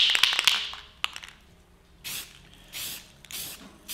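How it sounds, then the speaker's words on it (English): Spray paint hisses onto styrofoam modular terrain blocks at an angle, several close, steady bursts of aerosol spray separated by short pauses, after some clicking and rattling of the can. "See, I'm at an angle spraying away, just getting the edges for now."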